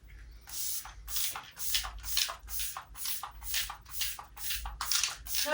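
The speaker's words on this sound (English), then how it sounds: "I'm going to go in with some of my Makeup Revolution fixing spray" Repeated short hissing sprays of Makeup Revolution makeup fixing spray, about a dozen quick bursts in a steady rhythm, close to the listener.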